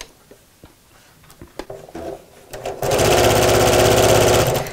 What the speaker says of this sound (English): we're going to sew them together in pairs with a 1/4 inch seam allowance